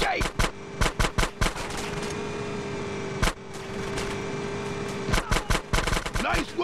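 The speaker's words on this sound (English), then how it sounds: "Shoot out the gate!" Gunfire in GTA San Andreas while a gate is shot out: close bursts of rapid shots in uneven clusters over a constant vehicle engine drone, with a brief pause in the middle before the firing resumes.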